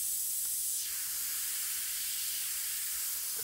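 An airbrush sprays paint in a steady, airy hiss that shifts slightly in tone partway through, close and continuous with no talking.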